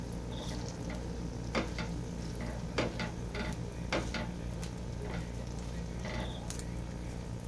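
A vegetable gola roti fries in a pan with a steady, close sizzle, joined by occasional sharp ticks and light taps from stirring or handling.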